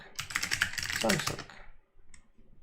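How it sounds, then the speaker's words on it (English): A computer keyboard is typed on in a quick, dense burst of clacking keystrokes for about a second and a half, close and clear, then stops, with a voice briefly heard. "now we can try to type something"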